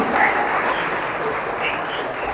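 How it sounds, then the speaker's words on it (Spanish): Steady applause from a church congregation during worship, a dense wash of clapping that holds at even loudness for a couple of seconds. "Ven, dale el aplauso al Señor."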